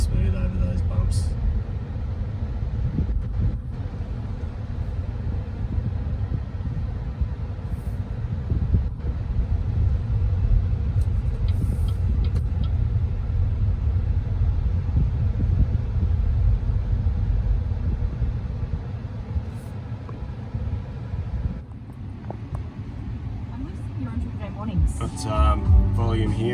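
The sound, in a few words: BYD Seal electric car driving over bumps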